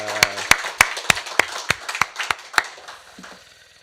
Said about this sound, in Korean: 건강의 박수 올려드리겠습니다